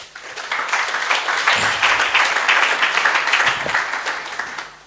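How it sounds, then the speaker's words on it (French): A seated audience at a question-and-answer session applauds for the speakers, swelling quickly into dense, sustained clapping before tapering off at the end. "J'aimerais qu'on applaudisse."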